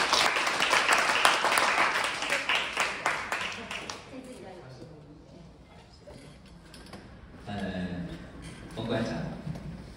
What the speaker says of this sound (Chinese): 我们用掌声欢迎陈老师。